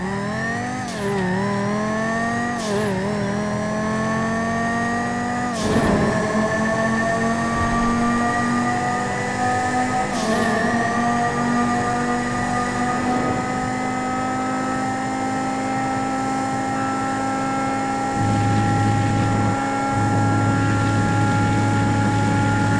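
Banshee sports car in GTA 5 revving hard, its engine note sweeping up in repeated loud bursts with gear-change dips, then settling into a sustained high drone with a deeper rumble near the end.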